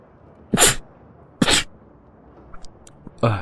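A sharp sneeze bursts out, then a second one about a second later, each loud and close against a quiet background, followed by a few faint small sounds.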